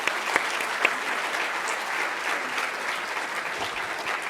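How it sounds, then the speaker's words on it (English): Audience applause for a conference panel, a dense steady wash of clapping from a room crowd sustained throughout, with a few sharper claps standing out early. "Can you join me in giving them a round of applause?"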